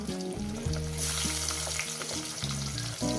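Small chela fish frying in a pan, a continuous loud sizzle and crackle with a tonal hum running beneath it.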